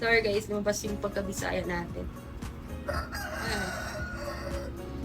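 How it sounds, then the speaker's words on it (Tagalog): A rooster crows loudly nearby, its drawn-out calls rising and falling, while a person talks over it throughout. "Pasensya sa manok guys, maingay ang manok."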